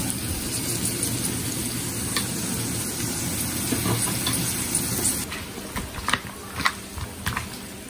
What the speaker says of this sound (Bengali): পেঁয়াজের বেরেস্তা করব।